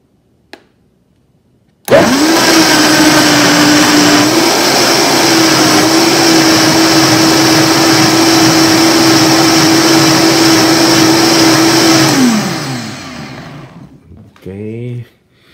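A kitchen blender whirs loudly and steadily as it purees a vegetable smoothie, starting abruptly after a click, running for about ten seconds, then winding down.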